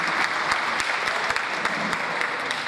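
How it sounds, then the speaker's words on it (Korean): A crowd claps enthusiastically in steady, dense applause, loud and sustained throughout with no speech. "큰 박수 다시 한번 부탁드립니다"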